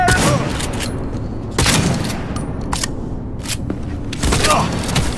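Automated turret fire in Cyberpunk 2077 comes in several loud sharp bursts, close and punchy with gaps between volleys over a busy combat background.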